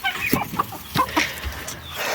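Backyard hens, part of a flock of about twenty-two including small Cochins, cluck in short, overlapping bursts close by, with several birds calling over about two seconds.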